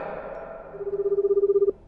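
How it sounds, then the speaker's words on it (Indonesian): A mobile phone ringtone plays a rapid, steady beeping pattern of about a dozen pulses that cuts off abruptly, following a fading tonal sweep, heard alone at moderate volume. "aku mendengar suara nada dering telepon yang terdengar dari handphone"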